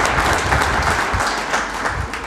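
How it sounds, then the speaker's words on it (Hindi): Audience applause at a joint gathering of social organisations, a dense, loud, steady clapping that fills the short stretch without pause. "एक दफा ताली बजा के उनका अभिनंदन करना चाहिए"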